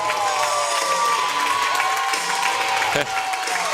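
A packed crowd of Rochester and Southwood fans at a high-school volleyball match roars, cheers and claps without letup, a dense, loud wall of voices that holds steady throughout.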